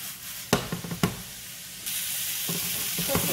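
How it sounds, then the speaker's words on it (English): Onions sauté in a pan for chicken fried steak with a sharp sizzle broken by a few knocks and stirring scrapes, then a louder continuous hiss as the cooking carries on. "Cook the onions until they're nice and tender and translucent"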